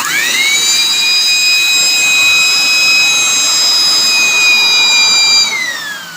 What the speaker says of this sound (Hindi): ये बहुत अच्छा वैक्यूम का भी काम कर रहा है और एयर का भी काम कर रहा है, ब्लोअर का भी।